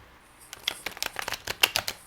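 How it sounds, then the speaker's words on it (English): A deck of cards riffle-shuffled after being split into two halves, giving a quick run of crisp flutters and snaps lasting under two seconds, close and clear with no talking. "This is one way of shuffling."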